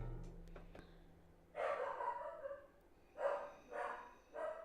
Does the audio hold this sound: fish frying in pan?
no